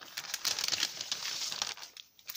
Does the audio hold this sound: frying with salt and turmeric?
no